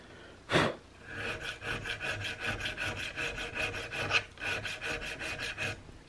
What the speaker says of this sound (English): I'm using my fine half round just because it's nice for getting in these little